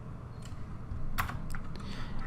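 Computer keyboard keys pressed for shortcuts while editing in Adobe Photoshop, a few separate clicks near the middle and a couple more after, moderately close over a steady low background hum.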